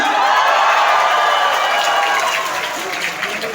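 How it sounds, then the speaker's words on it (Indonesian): Audience applause mixed with crowd cheering breaks out at a political talk event, a thick wash of clapping and voices that starts loud and slowly thins out over a few seconds. "Boleh tepuk tangan?"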